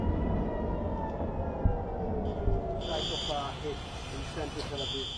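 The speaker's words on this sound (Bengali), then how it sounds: "ইসরায়েলের তেলাভিভ ও জেরুজালেমে সতর্কতামূলক সাইরেনের শব্দ শোনা গেছে।" Civil defense warning sirens sound across Tel Aviv, a steady high wail that rises in pitch partway through and carries over a dense wash of background noise and voices.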